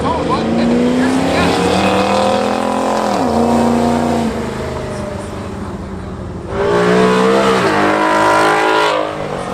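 A Chevrolet Camaro race car running on a track, its engine droning loudly and steadily, with pitch sweeping down and then climbing again as it shifts and accelerates close by.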